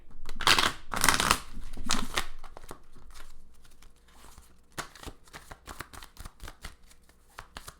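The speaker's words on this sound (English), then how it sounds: "Little shuffle here and then we're good to go for Cancers" Tarot cards being shuffled by hand, with bursts of riffling and softer sliding, tapping card handling that continues in shorter, quieter flicks; close and crisp, no talking.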